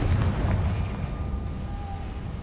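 A Confringo fire spell exploding in the game Hogwarts Legacy, a diffuse rumbling blast with a broad burst up front that fades into a low, lingering roar.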